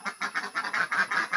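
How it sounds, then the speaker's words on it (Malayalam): Ducks on a Kerala farm quack in a quick, even series of about seven nasal calls, close by and fairly soft, with no talking. "താറാവുകളുണ്ട്."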